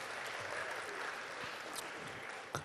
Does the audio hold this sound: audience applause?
yes